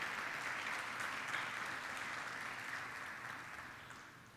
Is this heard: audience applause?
yes